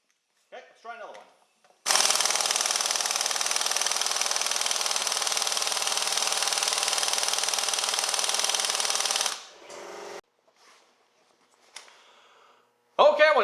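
An Urceri compact impact wrench set on high runs in one loud, steady sustained burst of about seven seconds, with brief voices and small handling noises before and after.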